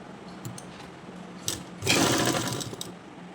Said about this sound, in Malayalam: നമുക്ക് ഇവിടെ നിന്ന് ഇങ്ങനെ നീളത്തിൽ സ്റ്റിച്ച് ചെയ്ത് കൊടുക്കാം കേട്ടോ.